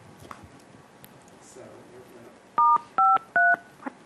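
Three short telephone keypad tones, each a crisp two-note DTMF beep, sound in quick succession to open a conference phone line, following quiet murmuring in a meeting room.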